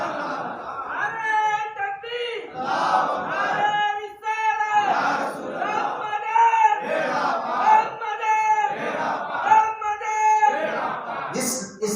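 A large crowd chants a religious slogan in rhythmic call-and-response bursts at a Sufi urs gathering honoring Zinda Shah Madar, loud massed voices rising and falling in regular phrases across the whole span.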